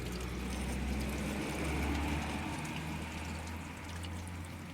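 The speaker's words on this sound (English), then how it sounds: "you can hear the water being sucked away" Water is sucked away through the scuttle of a Fiat Ducato Burstner Brevio motorhome cab, a faint continuous rushing, gurgling wash with low rumble beneath, steady throughout.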